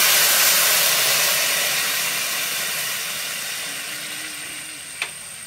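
Water poured into hot, sizzling khichuri in a pot sets off a steady steamy hiss that fades gradually over several seconds, with a small clink near the end.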